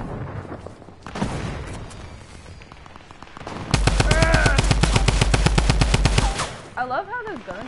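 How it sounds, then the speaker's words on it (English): Rapid machine gun fire in the video game Bandwagon, a loud, dense burst of evenly spaced shots lasting a few seconds, with quieter game noise before and after. "I love how those guns go."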